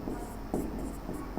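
Chalk or marker scratching on a classroom board in short rhythmic strokes, a series of close, brisk rubbing scrapes with no talk over them.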